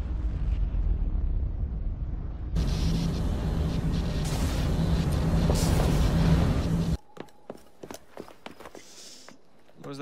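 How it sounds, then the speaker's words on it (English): A loud, sustained blast rumbles for several seconds in the video game Assassin's Creed, a Piece of Eden detonating and destroying a lab, then cuts off abruptly, leaving quieter scattered clicks and thuds. "What was that explosion?"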